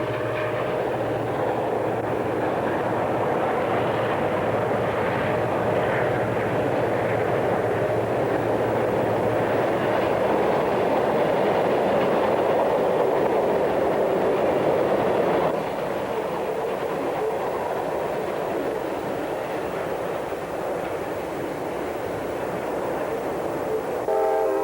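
A fast southbound CSX diesel freight led by a B&O GP38, a Seaboard SD40-2, a U30C and an SD45-2 roars past a lowered-gate crossing at Ideal. Engines drone loudly and steadily with a horn, then wagons rumble by.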